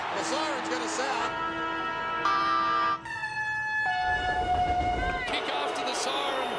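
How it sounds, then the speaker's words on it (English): A stadium siren sounds to end an Australian football game at the MCG in heavy rain, a sustained loud tonal blare with shifting pitch steps, heard over crowd roar and a commentator talking. "The siren's going to sound."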